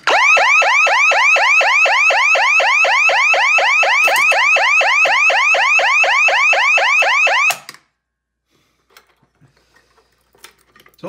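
A loud security system alarm siren wails in fast, rapidly repeating electronic sweeps for about seven seconds, very close and piercing, then cuts off abruptly into near silence with faint handling clicks.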